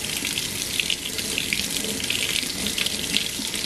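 Tap water runs steadily into a sink while a newborn's long hair is rinsed, a continuous close hiss with no talk over it.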